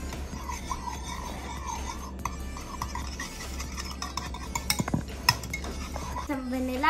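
Egg yolks are mixed in a bowl for waffle batter, with a utensil clinking and scraping against the bowl in an uneven rhythm and a faint hum beneath.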